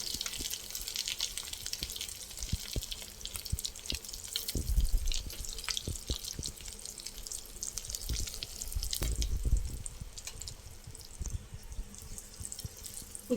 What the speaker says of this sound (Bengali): অল্প আঁচে এভাবে ভেজে নিতে হবে